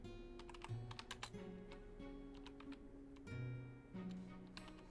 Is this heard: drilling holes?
no